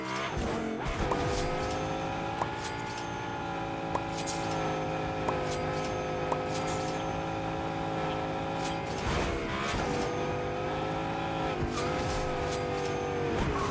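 A video-game car engine drones continuously with rising and falling revs, with intermittent tire squeals and skids as the vehicle slides around.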